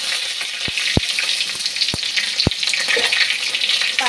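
A bay leaf sizzles in hot oil where dried red chillies have already fried, a steady crackling hiss broken by a few sharp clicks.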